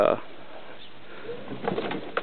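A bird, likely a dove, at a homemade water dish in a garden with a moringa tree, giving soft coos while someone talks nearby.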